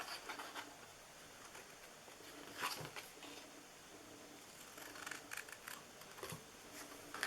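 Scissors cutting material for a DIY Easter basket, a few quiet close snips and rustling paper-like handling at low volume, with no voices.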